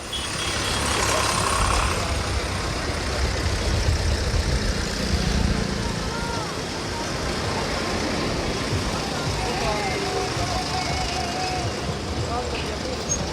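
Tractor engines rumble on National Highway 9 near Rohtak during a farmers' march toward Delhi, a continuous low idling and traffic drone with a reporter speaking over it.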